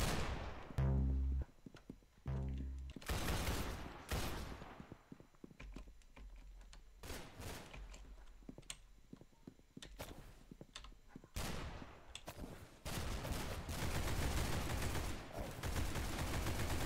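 Pistol gunfire in the Roblox shooter Arsenal crackles out as sharp single shots and rapid clusters, with loud, dense stretches broken by quieter gaps and sparse distant pops.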